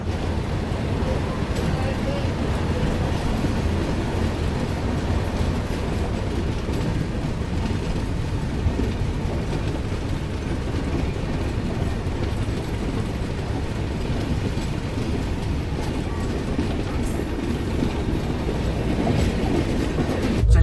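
The Capital Express passenger train in India running on rails, a steady, loud rumble with rhythmic clickety-clack throughout, no voices.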